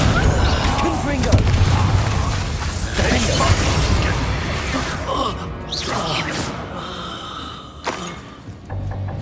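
Spell combat in Hogwarts Legacy against poachers: a Confringo blasting curse goes off with a heavy boom, amid whooshes, pops and mechanical clatter, while voices talk over the fight.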